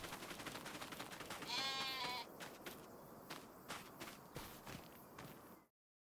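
Sheep bleat in a farming video game, a brief wavering cry rising over a clatter of soft footsteps and shuffling, with a few more faint bleats and thumps before the sound cuts to silence.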